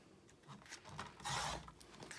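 A paper page trimmed to size for a handmade mini album, a brief close scraping, rasping slide of a cutter blade along the sheet, with a louder stroke midway and no talk.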